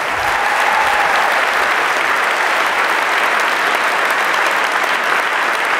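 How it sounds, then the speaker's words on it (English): A large audience at a corporate launch event for Microsoft Dynamics CRM 2013 applauds, a loud, dense and even roar of many hands clapping without pause across the whole stretch. "Round of applause."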